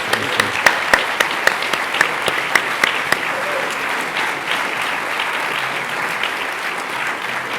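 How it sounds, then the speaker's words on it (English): Applause from an audience at an evening jazz history talk honoring Jared, with a few sharp claps standing out early before settling into a steady, fairly close wash of clapping. "let's give him a great round of applause"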